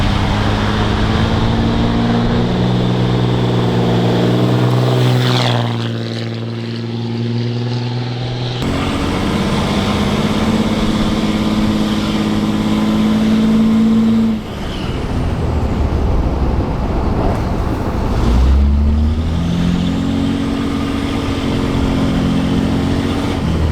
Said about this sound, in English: It's like a normal driving truck.